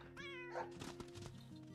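A kitten meows in a Saint Seiya video game: one clear, high, plaintive cartoonish mew that rises and falls, rather faint and heard alone over a soft, steady background.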